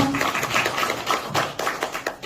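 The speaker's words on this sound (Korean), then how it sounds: "큰 박수 부탁드립니다." A lecture audience at a lifelong-learning mushroom cultivation course in Yeongwol County applauds to welcome a guest instructor: steady, dense clapping from many hands, moderately loud, with no talk over it.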